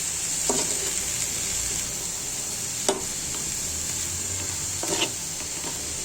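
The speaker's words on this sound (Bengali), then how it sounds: "এভাবে মোটা ডাটা মূলা শাকটা ভাজা করে খেয়ে দেখবেন খুবই টেস্ট" Thick-stemmed radish greens fry in a pan with a steady, soft sizzle, broken by a few sharp stirring clicks and scrapes of a utensil against the pan.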